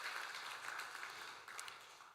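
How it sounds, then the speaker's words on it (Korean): A congregation in a Korean church claps for departing deacons, a soft, distant, steady patter of many hands lasting a couple of seconds. "우리 박수로 격려하도록 하겠습니다"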